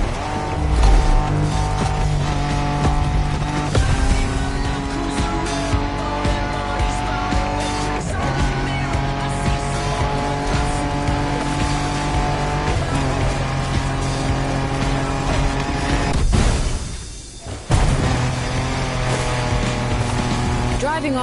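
Off-road racing cars in The Crew Motorfest, engines droning and revving steadily with tyre noise and brief skids, one short dip near the end, under a bed of game music and a voice talking throughout.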